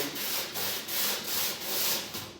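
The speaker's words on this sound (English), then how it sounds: "I'm going to just take this sandpaper and just go over the ribs and get down" Sandpaper rubbed by hand over the ribs of a 14-foot jon boat makes a steady run of rasping back-and-forth strokes, several per second, close and even, with no talking.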